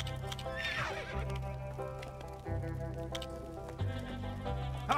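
A LEGO video game stallion gives a loud, close whinny, then several more neighs and snorts over a faint clip-clop of hooves, with no talking.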